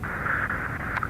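A blocked transmission on an air traffic control frequency in X-Plane 12, heard as a brief burst of steady radio static and hiss with a squeal near the end, lasting about a second.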